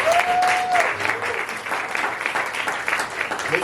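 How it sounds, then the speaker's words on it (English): Applause from an audience at a poetry event, a steady, moderately loud wash of clapping heard alone, with a brief whistle-like tone at the start. "So give one more round of applause, y'all."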